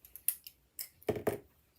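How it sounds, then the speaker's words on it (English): Scissors cut paper for a handmade card from a paper craft kit, giving several crisp snips close by: a few light clicks, then two sharper cuts near the end, with no talking. "So I did this, and then I'm taking my scissors"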